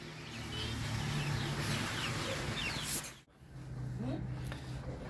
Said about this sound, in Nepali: कुखुराहरू ढुकायो बसो ल काकीको कुखुराको खोरमा ल